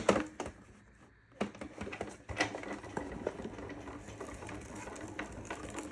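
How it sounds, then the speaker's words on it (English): A Sizzix Big Shot Plus die-cutting machine is cranked through, giving soft mechanical clicks and a low rolling grind, close and quiet, after a few handling knocks. "This one is the Sizzix Big Shot Plus. We're gonna roll it through."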